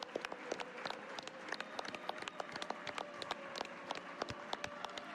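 A small audience at the SGDQ 2023 speedrun marathon claps during a Zelda: Twilight Princess run, a faint, sparse patter of distinct individual claps at an uneven rhythm.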